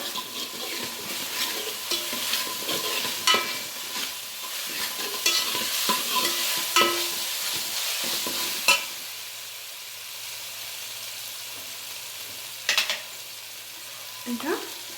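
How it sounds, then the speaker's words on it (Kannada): Ginger-garlic paste frying and sizzling in a pan for a goat head meat curry, with steady hiss and frequent scraping stirs, plus a few sharper utensil knocks near the end, with no talking. "ಶುಂಠಿ ಬೆಳ್ಳುಳ್ಳಿ ಸ್ಮೆಲ್ ಹೋಗೋ ತನಕ ಚೆನ್ನಾಗಿ ಫ್ರೈ ಮಾಡೋಣ"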